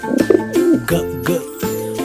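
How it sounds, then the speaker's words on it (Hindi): A pigeon coos in a few soft, rolling phrases, close and fairly loud, with a faint tinkling tone in the background. "कबूतर।"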